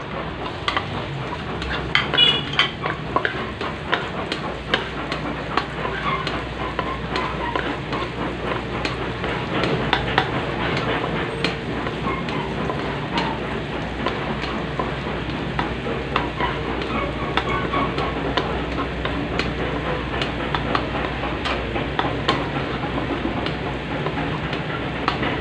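Onion and garlic sautéing and being stirred in a pan for spaghetti with sardines, a constant dense sizzle with crackling pops and scraping stirs, close and alone without talk.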